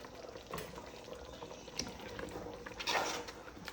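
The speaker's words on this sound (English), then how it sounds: "I think I'm fine with this boil." Ogbono soup boils in a pot, a soft bubbling and simmering hiss with occasional louder pops and a brief stirring clatter, faint and steady throughout.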